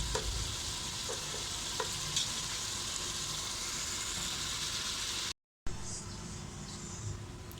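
Potatoes and tomatoes fry in a pan for aloo palak curry, giving a steady, close sizzle with a few faint scrapes and a brief dropout near the end; no talking.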